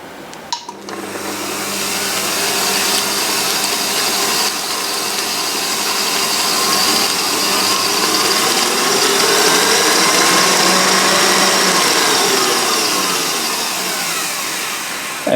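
Electric stand mixer beating white chocolate chip cookie dough after eggs and vanilla are added, a steady loud motor whir with a faint rhythmic mechanical ticking running throughout, alone with no talk.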